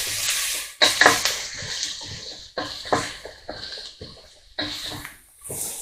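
Chopped vegetables for spaghetti bolognese stirred in a frying pan: repeated scraping sweeps and soft sizzling come in uneven bursts with short pauses between strokes, close by and fairly loud.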